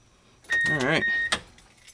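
A Walbro 450 fuel pump primes inside a car, giving a brief, thin electric whine under a burst of nearby speech that stops abruptly within a second.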